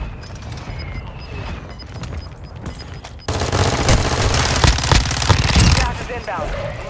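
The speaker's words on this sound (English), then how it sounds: "Mortar strike on the way." Mortar strike explosions in Call of Duty Warzone 2 set off a loud, dense barrage of blasts and rattling gunfire-like impacts that erupts sharply midway and keeps pounding for several seconds before easing.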